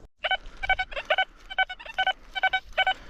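A metal detector sounds a shallow, short signal as a series of clipped electronic beeps, close and clear, repeating in quick uneven pulses.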